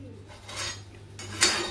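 A large kadhai wok set down on a gas stove while preparing pav bhaji, giving a couple of dull metallic clunks and scrapes, the loudest near the end, over a low steady stove hum.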